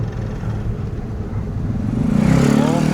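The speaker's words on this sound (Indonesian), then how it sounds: "Ada motor tuh." A motorcycle passes on a narrow mountain road beside a ravine in Majalengka, its engine hum building and rising in pitch as it draws closer toward the end, heard alone without talk.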